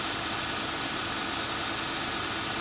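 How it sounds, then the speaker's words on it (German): A 1971 Lincoln Mark III V8 with a freshly overhauled carburetor idles steadily, a dense, even engine rumble heard up close and alone. "solange der Motor so schön läuft und nachher auch im Leerlauf so läuft"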